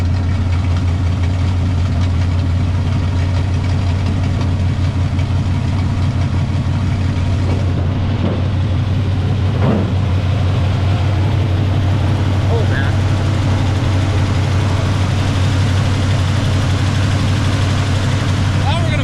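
An engine idles steadily with a low, even rumble after its alternator is re-excited, the hum continuous throughout while a person talks nearby.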